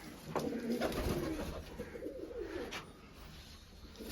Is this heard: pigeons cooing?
yes